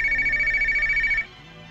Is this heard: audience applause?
no